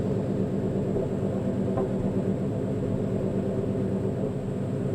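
A Coyote-powered car runs a baseline dyno pull, its engine a dense, steady droning roar that holds level for the whole stretch, with no voices over it.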